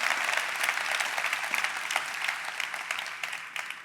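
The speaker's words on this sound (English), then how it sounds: "Can I have a round of applause for Zaina and Agentforce?" A conference audience gives sustained applause, a dense, steady wash of many hands clapping at moderate distance that tapers slightly near the end. No voices.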